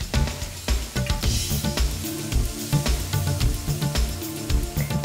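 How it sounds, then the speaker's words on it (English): Cooked beef fillet sizzles as it goes back into a coconut curry sauce seasoned with black pepper, a close, crackling fry with irregular pops and spits throughout. "And now place the cooked beef fillet back into the sauce."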